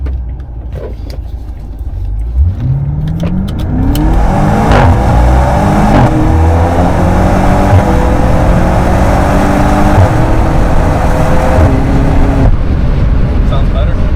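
An exotic sports car, such as an Audi R8 or BMW G80, accelerates hard with a loud, close exhaust note climbing steadily through the gears, with wind noise building and people talking over it.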